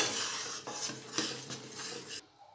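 Flour roasting in a hot kadai for Gujarati mohanthal is stirred steadily, giving a continuous near scraping and rasping of spoon against metal, which stops abruptly near the end.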